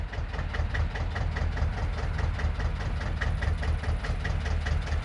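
A 1965–70 MB-trac tractor idles on a farm, its engine giving a steady, even, knocking diesel chug with a faint regular ticking on top, close and constant, with no voices.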